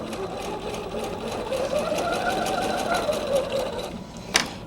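A sewing machine set to reduced speed stitches quilt pieces in a steady, fast rhythmic whir with even needle ticks, running continuously close by, ending with a brief click.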